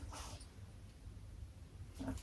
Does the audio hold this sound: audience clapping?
no